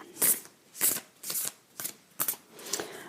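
A deck of cards being shuffled: six quick riffling bursts at an even pace, each a soft papery rush with brief pauses between, close by with no talk.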